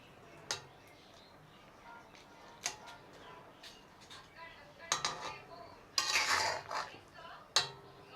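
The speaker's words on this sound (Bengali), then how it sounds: "এখন একটু নাড়বো।" Rui fish curry is stirred in a pot, with scattered metallic clinks and scrapes of a utensil against the vessel, sparse and quiet at first, then a brief cluster of louder clattering near the end.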